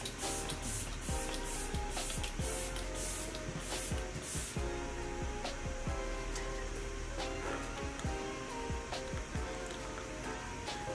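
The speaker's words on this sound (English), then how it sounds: "I'm gonna use my Morphe setting spray." A steady hiss of Morphe setting spray fills the clip, with repeated short bursts and faint clicks, close and fairly loud.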